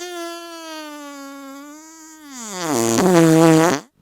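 A human voice imitates a fart with a drawn-out, buzzing, wavering tone that rises into a louder, strained burst before cutting off abruptly.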